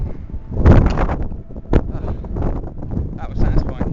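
Strong gusts batter the microphone on a coastal clifftop ridge, with rough low rumbling bursts mixed with a person talking close by.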